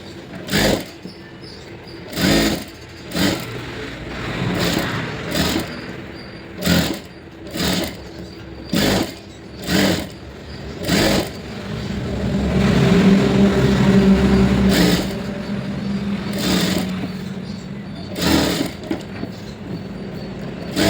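Electric sewing machine stitching a lined blouse, with repeated short bursts of fast motor whir separated by pauses, then a longer steady run in the middle, heard close with no talk.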